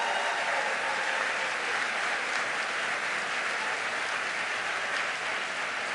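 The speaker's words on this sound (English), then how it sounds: "Give them a big round of applause." Steady audience applause at a gun safety summit in Connecticut, a broad even wash of many clapping hands sustained throughout at moderate level, with no speech.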